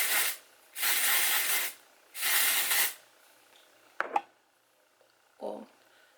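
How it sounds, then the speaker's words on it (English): Herbal Essences dry shampoo from a small mini can sprayed into hair in two long hissing bursts with a short opening puff, followed by quiet handling clicks and a brief rustle. "we're going to spray this in my hair"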